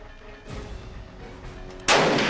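Sniper rifle fire from the tactical game Jagged Alliance 2: a sharp, loud shot bursts at about half a second with a rumbling tail, then a second, stronger blast near the end, with no voices.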